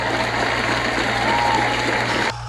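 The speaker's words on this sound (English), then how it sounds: "I haven't seen the crowd so wild since Nature Boy's last match with that polar bear." Wrestling arena crowd roaring and applauding in a dense, sustained wash of cheers that holds steady before cutting off abruptly near the end.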